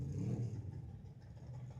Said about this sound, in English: Yeah, I hear cars there running.